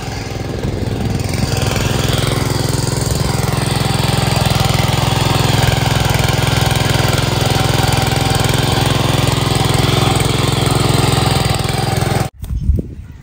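An R105 King rotary power weeder attachment used for sugarcane weeding runs steadily and loudly up close, a constant droning engine with a rough mechanical rattle that cuts out abruptly near the end.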